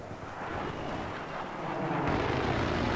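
A Battlefield 3 jet engine gives a steady, broad roaring thrust on the Operation Firestorm map, a continuous rumbling hiss that swells slightly louder toward the end, with no pauses.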